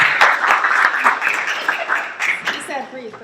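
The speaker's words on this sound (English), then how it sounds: "So let's give a round of applause." Audience applause at a library's Women's History Month panel event, greeting Rosalie Murillo, a steady wash of clapping with a few sharper claps and a voice speaking over it near the end.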